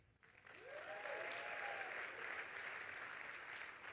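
Applause from a large audience at a welcome-aboard show on the Norwegian Pearl cruise ship, a dense, steady roar of clapping that swells quickly and holds for several seconds.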